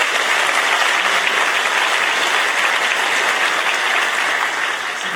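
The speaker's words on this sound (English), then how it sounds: "Let's give them another round of applause." Sustained applause from a graduation audience for the technical education center's 2015 class, a dense, steady wash of many hands clapping at full volume for the whole stretch with no talking over it.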